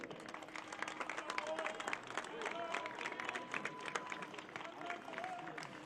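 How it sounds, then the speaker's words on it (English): Crowd at the MLS NEXT Cup U19 Homegrown Final ceremony applauds St. Louis CITY SC, a faint, distant spread of clapping and cheering with voices and an announcer's speech mixed in. "One more round of applause for St."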